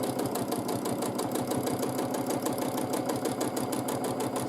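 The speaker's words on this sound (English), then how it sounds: "So we are quilting our lines, back and forth lines" A sewing machine quilts back-and-forth lines on a textured feather wall hanging, its needle running as a fast, steady mechanical chatter close by with no pauses.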